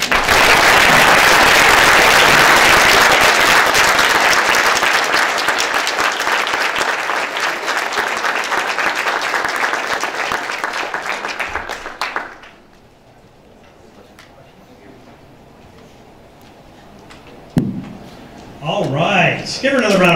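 An audience gives a loud, sustained round of applause after a speech, the clapping tapering off after about twelve seconds into quieter room noise before a voice speaks.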